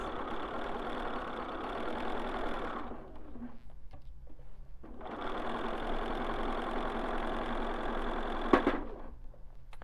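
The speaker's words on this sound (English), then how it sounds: "we're just going to sew that 1/4 inch seam allowance" A sewing machine stitches a quarter-inch seam in two steady bursts of rapid mechanical whirring, separated by a short pause, close and moderately loud with no talking.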